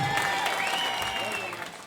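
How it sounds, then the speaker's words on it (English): A boxing crowd applauds a light heavyweight after a stoppage win, a dense, even wash of clapping at moderate distance that fades slightly toward the end. "soaked up the applause"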